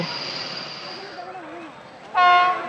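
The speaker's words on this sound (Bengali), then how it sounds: "এই দেখুন আমাদের train Malda town SMBT Bangalore বন্দে সাধারণ এক্সপ্রেস বোলপুর ঢুকছে" The Malda Town–SMVT Bengaluru Amrit Bharat express pulls into Bolpur station with a low rumble under nearby talk, then a loud, close horn blast sounds near the end.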